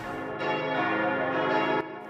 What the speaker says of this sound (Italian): Le campane hanno suonato nelle chiese di Altötting